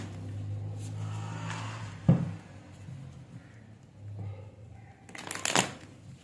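Tarot cards are shuffled by hand, with a short riffle burst partway through and a louder, rapid flurry of shuffling near the end, heard up close over a quiet room with faint background murmur.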